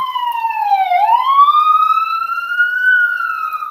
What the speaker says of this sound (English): There you hear the ambulance.